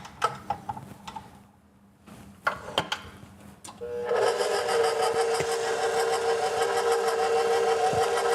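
A whisk beats an ice cream mixture in a bowl with a steady, dense rattling churn that starts abruptly after a few scattered knocks and carries on loud and continuous to the end.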